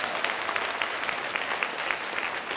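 A room of people at a seminar claps together in a fairly quiet, continuous patter of many hands, with no voices rising above the clapping.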